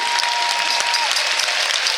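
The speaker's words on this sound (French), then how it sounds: "Vous nous applaudissez, mais laissez-moi véritablement vous encourager à vous applaudir encore et encore" A crowd applauding at an outdoor rally, continuous loud clapping from many hands that holds steady for the whole stretch without voices breaking through.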